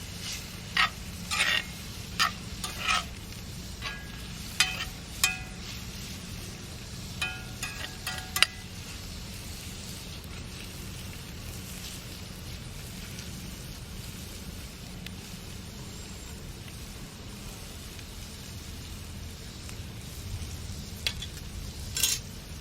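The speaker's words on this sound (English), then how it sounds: "That pan's hot. Get some of this bacon cooked down." Bacon sizzles in a hot cast iron pan over a campfire, a steady low hiss running throughout with scattered crackles and utensil clinks, which are busier at the start.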